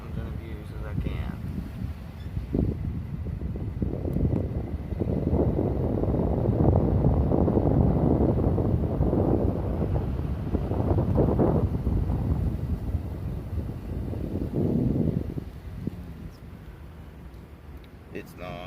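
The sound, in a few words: wind noise heard while driving through mountains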